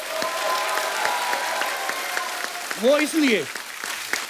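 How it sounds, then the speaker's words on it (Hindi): A studio audience on a comedy talk show bursts into steady applause that fills the background under close male speech, with a brief tonal swoop of sound effects near the end. "अजय सर के लिए एक बार जोरदार तालियां बनती हैं।"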